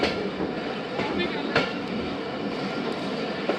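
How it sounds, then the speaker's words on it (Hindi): Tezgam Express passenger train pulling out of Rahim Yar Khan station, a loud steady rumble of wheels on rails with occasional clacks and a brief squeal, heard from aboard with speech mixed in. "8:04 पर जनाब ट्रेन रहीम यार खान से हो रही है रवाना।"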